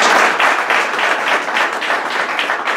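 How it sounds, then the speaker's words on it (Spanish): An audience claps loudly and steadily in unison, a dense close wash of hands with a rhythmic pulse running the whole time and no voices. "le damos un aplauso."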